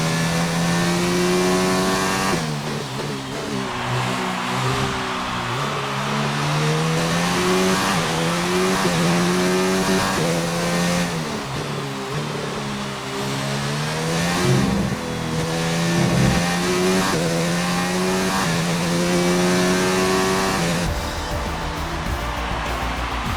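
Formula 1 race car engine from the F1 2019 video game on a dry track, a loud continuous high-pitched whine rising and falling through gear changes, with tire squeal and no talk over it.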